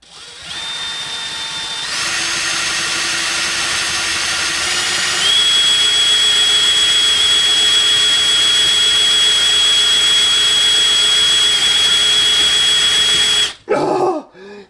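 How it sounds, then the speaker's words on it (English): A power drill fitted with a mortar bit whines steadily and loudly for a long stretch, its pitch shifting as the bit strains against the wood, then cuts off abruptly. "I'm using a cement or a mortar drill bit here."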